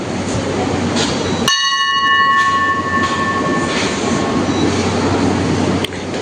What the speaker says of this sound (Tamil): அவங்க சர்வீஸ் நல்லா இருக்கு அப்படின்னு சொல்லிட்டு பெல் அடிச்சு சொல்லுவாங்க.